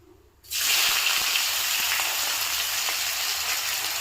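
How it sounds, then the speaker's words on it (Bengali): Onions hit hot oil in a wok, already seasoned with cumin, dried red chillies and bay leaf. A sudden loud sizzle bursts in after near-silence and holds as a steady, dense hiss, close by, with no talk. "এখন দিয়ে দেবো পেঁয়াজ"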